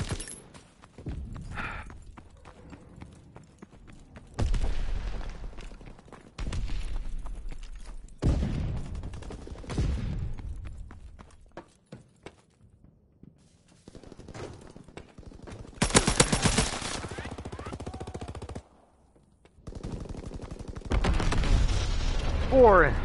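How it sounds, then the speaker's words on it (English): Rapid bursts of M2 Carbine fire in a first-person shooter game, several sharp volleys separated by short pauses, loud and close, with a voice talking in between. "rapid fire on this gun is pretty good."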